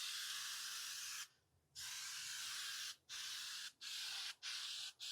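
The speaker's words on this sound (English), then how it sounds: "I'm just going to be doing the inside of this case with the spray. All right, I've got my charbroil spray." Char-Broil cleaning spray hisses inside the case of a vertical Pit Boss smoker, one long steady burst followed by several shorter bursts separated by brief pauses, loud and close with no talk.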